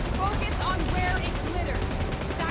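Rapid machine-gun fire in a video game rattles on without a break, loud and dense, while someone talks over it.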